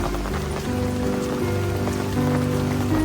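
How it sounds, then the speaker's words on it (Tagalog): Rain falls steadily in a mountain forest, a dense, even patter close by that carries on without a break, with a faint low tonal hum running underneath. "Naulan pa din."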